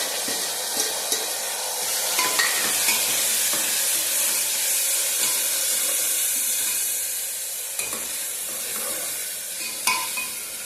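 Onion, black pepper, green chillies and tomatoes cook in a pan with a loud, continuous sizzle and hissing steam, with a few scattered stirring clicks, heard up close.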